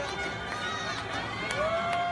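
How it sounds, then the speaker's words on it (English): A large crowd cheers by the waterside at the Canal Saint-Martin in Paris as part of an audio drama, making a steady, dense wash of voices and excited calls that continues throughout the clip. "Thousands stared at her from the waterside,"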